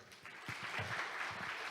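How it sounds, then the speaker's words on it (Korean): Audience applause at a food and restaurant industry outlook conference in Korea, steady clapping from a crowd after a talk, continuous throughout the short moment. "많은 분들의 뜨거운 박수가 전해지고 있는데요"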